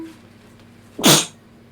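One sharp, loud sneeze bursts out close by in a quiet room. A faint low hum sits underneath it.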